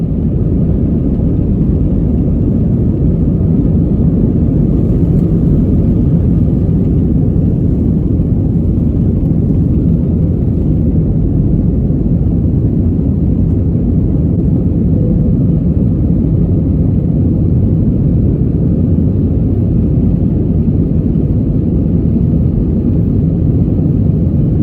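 Air India Airbus A320ceo jet on its takeoff run from Delhi, a loud, steady cabin roar of engines and rumble that holds unbroken throughout, with no voices.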